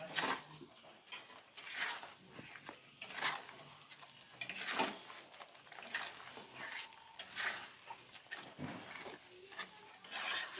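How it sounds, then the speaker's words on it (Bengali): Spices with fish, turmeric and salt being stirred and sautéed in a pan, intermittent scraping and rubbing strokes in an irregular rhythm, fairly quiet and close with no talk. "এটাকে আমি এভাবে কষাতে থাকবো।"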